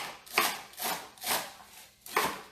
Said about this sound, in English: I'm just chopping celery over here.